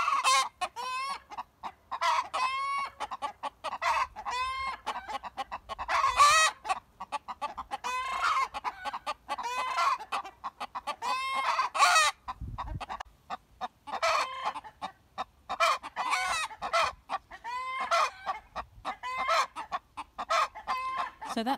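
Hens cluck and squawk around a chicken coop, with a rooster crowing now and then; the calls come in steady bursts throughout, close by and fairly loud, with no talking.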